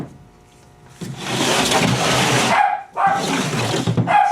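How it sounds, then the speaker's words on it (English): A pet dog named Shotzi barks in a pottery workshop where plaster ceramic molds are being trimmed, two long loud bursts of rapid barking close to the microphone, with no talk over them. "My dog's barking."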